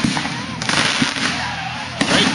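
July 4th fireworks show with a quick series of sharp bangs and crackling bursts echoing over a steady background hiss, with a few people's voices faintly audible between the pops.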